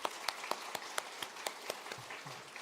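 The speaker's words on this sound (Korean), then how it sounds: "영광 받으실 하나님께 영광의 박수를 한번 올려드리겠습니다." A church congregation at a Sunday afternoon worship service claps together, a steady, fairly quiet patter with a few evenly spaced louder claps, trailing off near the end.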